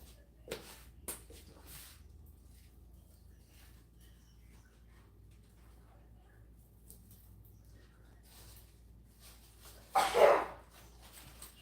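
A single short sneeze bursts out loudly near the end of a quiet indoor stretch, preceded by a couple of faint knocks and soft background hum.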